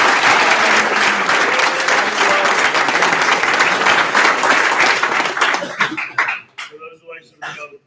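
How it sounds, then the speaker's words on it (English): A crowd at an annual meeting claps loudly for a newly elected vice president of IFC Judicial Affairs, a dense sustained round that thins into a few scattered claps and fades out near the end. "So let's give him a round of applause."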